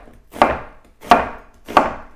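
Three firm knife chops cut half a red onion into chunky strips on a board, evenly spaced, close and crisp, with nothing else heard.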